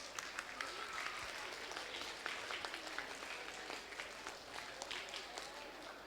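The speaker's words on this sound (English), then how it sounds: "They deserve a big round of applause." Applause for eight school maths competition winners, a faint, steady patter of many hands clapping in a room, continuing evenly for several seconds.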